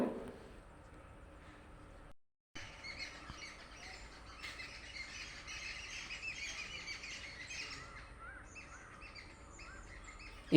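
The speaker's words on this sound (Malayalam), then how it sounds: "എന്ത് മനോഹരമല്ലേ പക്ഷികളുടെ ശബ്ദം" Birds chirp and sing steadily in the background outdoors, a mix of bright, overlapping calls after a brief silent gap near the start.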